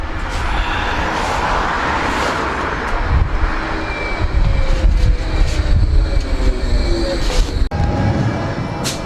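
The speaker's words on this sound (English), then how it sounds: "Here comes our tram now to take us back" A Blackpool tram rumbles and rattles as it arrives, a loud continuous mechanical roar with clanks and squeals over several seconds.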